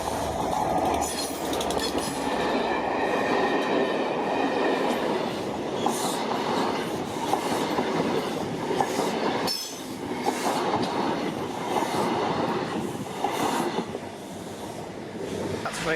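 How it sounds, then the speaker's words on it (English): The Caledonian Sleeper train rumbles steadily past at close range through a station, wheels clattering over rail joints with occasional metallic squeals, continuous and loud throughout. "Train, as you may have just seen, was the Caledonian Sleeper."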